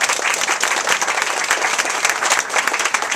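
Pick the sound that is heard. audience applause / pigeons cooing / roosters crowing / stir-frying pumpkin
audience applause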